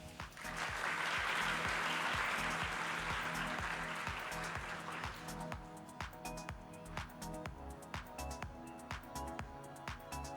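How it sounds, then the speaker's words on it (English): Applause at the CFA Institute Research Challenge final round in Thailand swells for a few seconds then fades to scattered claps over steady rhythmic background music with a regular beat. "let's give a big round of applause"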